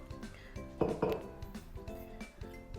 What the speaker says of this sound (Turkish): tabak alıyorum, derin bir tabak